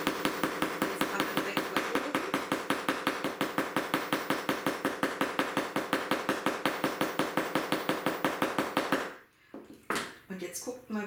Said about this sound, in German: Und jetzt zeige ich euch nochmal die Hammertechnik, Hammerschlagtechnik, also mit diesem kleinen Böckel wieder von oben.